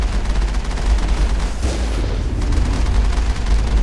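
Geth gunfire pounding the Mako vehicle in Mass Effect, a loud continuous barrage of heavy shots and booming impacts that roll on without pause.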